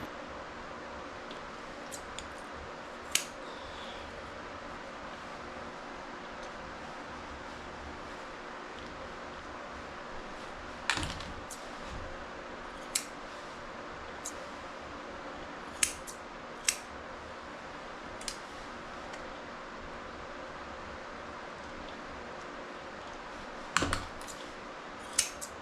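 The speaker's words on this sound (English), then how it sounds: "I'm using my straight scissors to trim up underneath his chin" Straight grooming scissors snip sparsely at a Mini Goldendoodle's chin fur, giving scattered sharp close clicks over a quiet steady background with long gaps between cuts.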